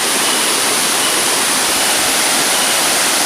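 Steady, loud roar of a waterfall about 110 meters high in the interior of Subang, a broad unbroken wash of falling water filling the whole stretch with no voices.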